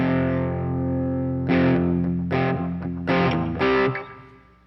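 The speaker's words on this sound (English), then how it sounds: "Got to get that distortion to break up just right." Heavily distorted electric guitar plays a few sustained, crunchy chords with gaps between strums, loud and up close, no voices.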